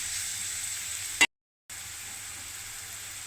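Onions frying in a small amount of oil for eggless noodles, a steady close hiss and sizzle broken by a brief full dropout before the frying sound resumes.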